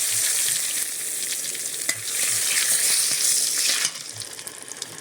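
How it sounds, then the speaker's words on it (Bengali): Dry red chillies, whole cumin and bay leaves crackle and sizzle loudly in hot oil in a kadai, a dense steady hiss with scattered pops and light stirring knocks, easing off near the end, no voices. "তেলে শুকনো লঙ্কা দিয়ে দিচ্ছি, গোটা জিরে,"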